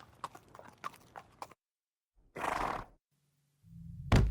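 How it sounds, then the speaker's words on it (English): Quick hoof clops tap in a short run, then a breathy horse snort and a low grunting rumble after a pause. "Then Tracie came in with a horse as bait."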